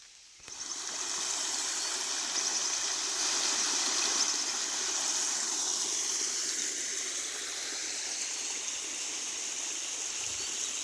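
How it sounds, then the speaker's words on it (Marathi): Irrigation water flows steadily through a field channel on a farm, a continuous close rushing gurgle with no voices. "हे बघा पाटानं पाणी येतं"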